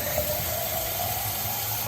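Cold tap water runs steadily from a faucet, a loud continuous hissing rush close to the microphone, with no voices.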